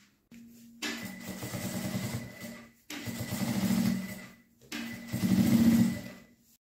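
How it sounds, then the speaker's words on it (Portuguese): A sewing machine runs a topstitch seam along the fabric edge of a lined toiletry bag, in three close, loud bursts of rapid whirring stitching separated by short pauses. "E agora eu vou passar uma costura de pesponto aqui nessa borda"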